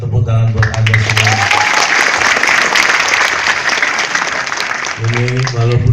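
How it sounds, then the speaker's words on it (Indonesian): An audience breaks into loud, sustained applause, a dense wash of clapping that rises over a voice and fades back as he speaks again at the end. "Tepuk tangan buat Anda semua."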